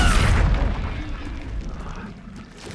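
The Incendio fire spell is cast in Hogwarts Legacy on PS5, a loud burst that opens with a bright whoosh and booming crackle, then fades into a rumble and swells slightly again.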